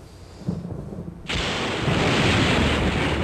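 A card destruction animation plays in Yu-Gi-Oh! The Duelists of the Roses, with a low rumble that breaks into a sudden loud burst of crackling, roaring noise sustained to the end.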